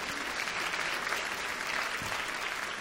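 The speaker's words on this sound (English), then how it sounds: "Can we get a round of applause for Chief tonight?" Steady applause from a crowd, dense and continuous for the whole stretch, with no pauses or voices standing out.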